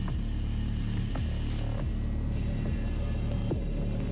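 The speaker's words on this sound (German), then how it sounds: "Hier sind die Ventilatoren wieder an." Fans running in the DOOM video game give a steady mechanical hum and low rumble with faint periodic creaks and throbs, continuous and even throughout.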